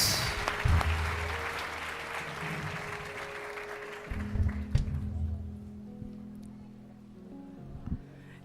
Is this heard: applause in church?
yes